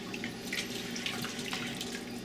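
Water runs steadily into a cooking pot while a chicken stew with drop dumplings is being made, a continuous close splashing rush with no talking.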